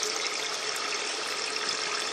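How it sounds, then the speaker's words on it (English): Water pours steadily into a bell siphon, a constant close broadband rush and gurgle with no pauses and nobody speaking. "You can see water going in there now."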